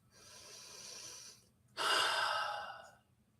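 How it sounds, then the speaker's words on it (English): A deep breath, a long inhale followed after a short pause by a louder, forceful exhale, close and clear with no talking. "Take a deep breath."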